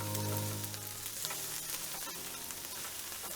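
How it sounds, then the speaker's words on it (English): Halloumi and fennel sizzle loudly on a hot grill, a dense continuous crackle and hiss close up, with occasional scrapes and taps; a low hum fades out at the start. "We're gonna let them grill on that side."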